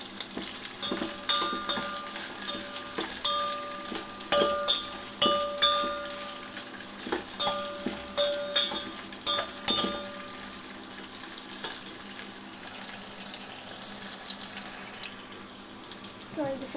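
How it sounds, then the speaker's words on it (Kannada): Carrots and chillies frying in a home kitchen pan, a steady sizzle broken by repeated clinking stirs and scrapes, growing quieter and calmer toward the end. "ಸೊ ಇದು ಫ್ರೈ ಆಗ್ತಿದೆ."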